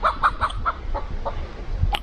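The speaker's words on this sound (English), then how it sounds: "Watch out, chickens. They're coming through." Chickens cluck repeatedly in a village setting in Armenia, a quick series of close, clear clucks followed by a sharper squawk near the end.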